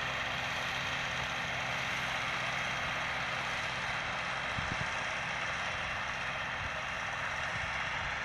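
A YuMZ tractor's engine runs steadily while pulling a harrow, a continuous low diesel drone heard close with no talk.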